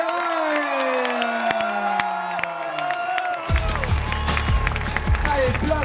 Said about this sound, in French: Est-ce qu'on peut faire un tonnerre d'applaudissements pour Théo Egal?